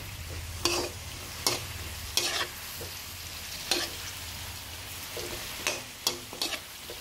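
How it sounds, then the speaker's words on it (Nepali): Drumsticks fry with turmeric in a pan, a constant low sizzle broken by sharp irregular scrapes and knocks of a spoon stirring, about eight clear strokes, close by and with no speech. "अब हर्दी पनि राख्दैछु यसमा अनि मजाले यसलाई फ्राई गर्छु है।"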